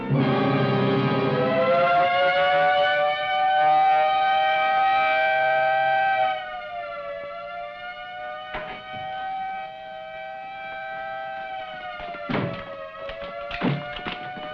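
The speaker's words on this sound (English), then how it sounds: "Sound the general alarm." A loud wailing prison general alarm siren holds a steady tone, joined by a few heavy thuds and knocks partway through.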